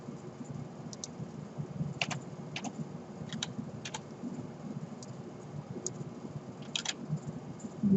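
Light, sparse key clicks from a computer keyboard while a date is typed into an AutoCAD drawing, scattered taps over a steady low hum with no talking.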